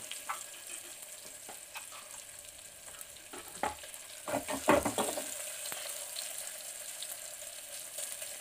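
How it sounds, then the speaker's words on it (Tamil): Chopped onions sauté in oil with ginger and garlic for a drumstick leaf soup, making a soft continuous sizzle with clusters of louder stirring clatter near the middle. No one speaks. "வெங்காயமும் வந்து பச்சை வாசனை போக எண்ணெயில் நல்லா வதங்கட்டும்."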